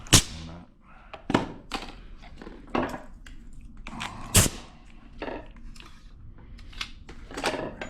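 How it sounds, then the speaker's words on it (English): A staple gun drives staples into fabric stretched over a wall during professional wall upholstery installation, giving sharp, separate thunks at irregular intervals, fairly close and moderately loud against a quiet room. "And then we're actually going to just use staple gun."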